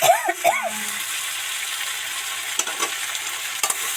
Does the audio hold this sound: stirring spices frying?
yes